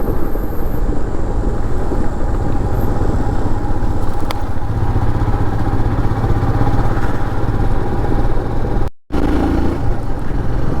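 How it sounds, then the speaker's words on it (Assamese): Motorcycle ridden along a winding hill road on a sunrise trip from Guwahati to Nongjrong near Laitlum, a steady loud engine drone with wind rush throughout, briefly cutting out near the end. "পাহাৰৰ একা বেকা ৰাস্তাৰে কিন্তু বাইক চলাইও এটা মজা লাগে।"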